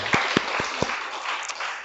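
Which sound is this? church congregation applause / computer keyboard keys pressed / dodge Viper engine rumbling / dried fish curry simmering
church congregation applause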